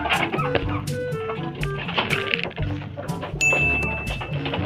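Chickens and pigeons at feeding time: close clucks and short bird calls mixed with knocks and a brief metallic ring, busy and irregular.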